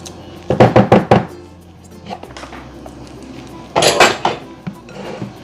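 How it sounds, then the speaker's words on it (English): A spatula scraping the sides of a mixing bowl of sweet potato pie filling, giving several quick, loud scrapes and knocks in two bursts, with a voice briefly heard between them. "scrape on the sides"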